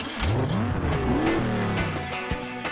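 Buggy engines in the Beach Buggy Racing video game, Coconut Cup Series, set in Mayan caves with tiki torches, rev and whine with rising pitch sweeps, loud and continuous over a race start.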